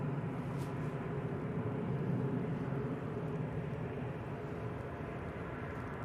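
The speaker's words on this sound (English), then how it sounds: "Ryanair about to touch down." Ryanair airliner touching down on landing, a steady broadband roar of engines and rushing air held at a fairly even level throughout, moderately distant with no voices.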